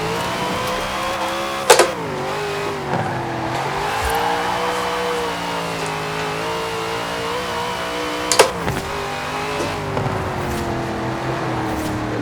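A 600-horsepower car on oversized but poor tires in Forza Horizon 4, its engine holding a loud steady drone with rising and falling pitch, punctuated by two sharp transient bursts, no talking.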